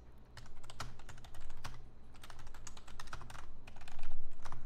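Keys clatter on a computer keyboard in irregular bursts of clicks, close and fairly loud, while someone clears a field and types in new text, with no talking.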